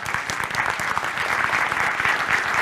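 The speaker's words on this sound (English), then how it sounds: "A round of applause for Alan." A conference audience at a cybersecurity summit applauds a quiz winner with dense, steady clapping from many hands, loud and continuous without talk.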